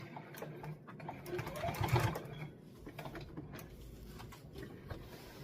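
A sewing machine back stitching a jacket, running in a short rhythmic burst that peaks then settles into a softer mechanical whir, with faint knocks around it.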